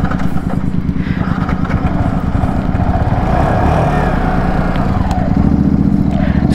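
A modified Yamaha R15 motorcycle engine runs loud and close throughout, a steady rumbling drone with rapid firing pulses and a slight rise in revs near the end, no talk over it.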